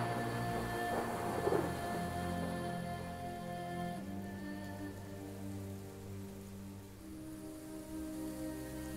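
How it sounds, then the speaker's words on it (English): Steady rain falls in Expeditions: Viking, a broad continuous patter of drops on surfaces that runs alone and fairly soft throughout, with a faint tonal music bed beneath. "You're still standing there in the rain."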